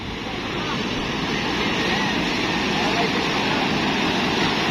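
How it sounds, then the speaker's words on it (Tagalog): A bangka from Kamuning pushes through strong sea waves, with a loud, continuous roar of churning water and wind buffeting the microphone from start to finish. "Muling sasabak ang bangka ng Kamuning sa alunan"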